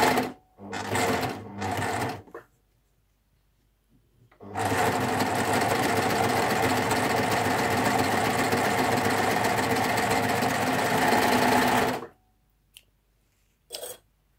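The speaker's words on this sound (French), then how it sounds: "je prends 2 tissus envers contre envers que je vais coudre avec mon flatlock décoratif" A Baby Lock Ovation serger stitches a decorative flatlock seam through two layers of fabric placed wrong sides together, running in a steady, loud, continuous whir for about seven seconds after a few short bursts, then stopping.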